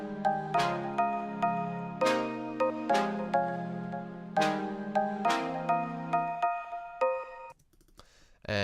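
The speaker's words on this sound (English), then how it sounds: "I just chopped up the chords to play this like little rhythm that sounds like this." Chopped future bass synth chords pulse in a choppy rhythmic pattern, each stab starting bright and decaying quickly over a low sustained bed, running for several bars before thinning out near the end.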